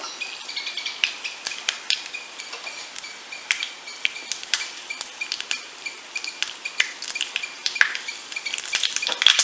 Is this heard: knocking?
no